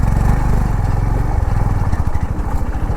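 A Honda CB350 motorcycle engine runs loud and close after a restart in second gear off road, a steady thumping idle that picks up into a faster pulsing beat.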